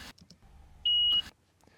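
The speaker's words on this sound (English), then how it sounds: "This is the beep that we can see here as well." A single steady electronic beep in a recording, clear and level for about a third of a second between brief soft sounds.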